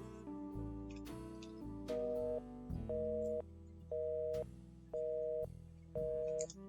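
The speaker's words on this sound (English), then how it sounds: "nothing more than the beeps of the busy signal" Steady telephone busy signal: evenly spaced electronic beeps repeating with short gaps, quiet and clear, no talking.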